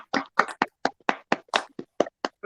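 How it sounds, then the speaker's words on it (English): Sparse applause from a small audience for comedian Joe at a comedy show, about a dozen distinct, separate claps in an uneven rhythm, close and clear with silence between. "So round of applause for Joe,"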